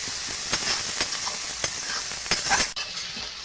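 Ginger paste stir-fried with fried pangas fish in a pan, steady sizzle punctuated by repeated scraping strokes of a spatula, close and moderately loud.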